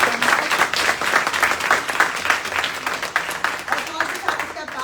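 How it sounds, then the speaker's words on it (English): A town hall audience applauds in a steady, dense wash of many hands clapping together, sustained and fairly loud throughout, with no distinct voices above it. "Round of applause for PD,"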